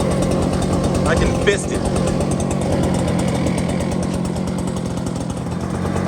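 An Echo PB9010T two-stroke backpack leaf blower engine idles with a loud, close, steady rattling drone while someone speaks briefly over it.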